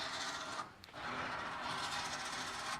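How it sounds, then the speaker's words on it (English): Rooftop tinny winch reeling its rope back in, a steady close mechanical whirring and grinding that runs almost throughout with a brief dip near the start. "And now we'll just wind the winch back in."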